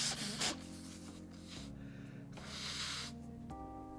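Someone blows their nose in two or three short, breathy snorts while steady game music plays underneath; no talking.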